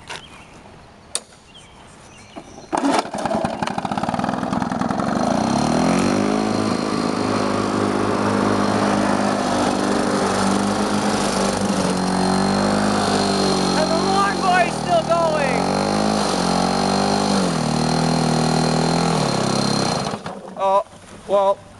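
Lawn-Boy two-stroke lawn mower cutting grass along a ditch, a loud steady engine drone that starts abruptly after a few seconds and runs continuously, with pitch wavering as it labors, then cuts off near the end.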